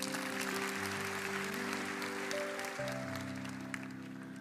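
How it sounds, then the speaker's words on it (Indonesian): A church congregation applauding at a sermon, dense steady clapping throughout with sustained organ-like chords underneath, loud and continuous. "Kasih tepuk tangan sekali lagi untuk mereka."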